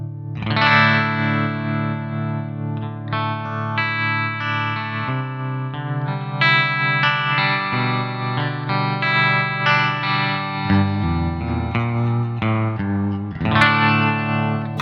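An electric guitar plays sustained chords through a Nux Verb Core Deluxe reverb pedal set to a faster tremolo, the tone pulsing quickly and washing into a long shimmering reverb tail, loud and alone.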